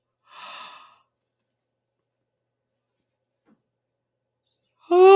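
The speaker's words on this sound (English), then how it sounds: "Deep breaths in." A single deep breath drawn in during a guided healing meditation: a soft, airy inhale lasting under a second, followed by long quiet before a voice starts speaking right at the end.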